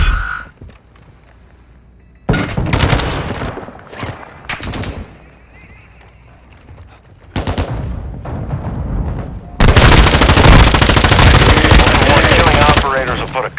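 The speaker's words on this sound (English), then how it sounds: "Enemy operators are near your position. Sentry gun deployed." A deployed sentry gun in Call of Duty: Modern Warfare II DMZ fires loud, sustained automatic bursts in several long stretches, with in-game voice lines and other gunfire mixed in between.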